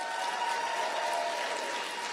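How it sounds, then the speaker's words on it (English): Awards ceremony audience applauding the nominees: a dense, continuous wash of many hands clapping at even, moderate volume, heard from a distance in a large hall, with no talking. "one more round of applause for all of the nominees"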